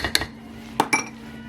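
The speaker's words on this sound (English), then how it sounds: "I'm just gonna stir it around like this." A spoon stirring fruit cake mixture in a bowl, giving a few sharp clinks and scrapes against the bowl in two brief clusters, close and fairly quiet.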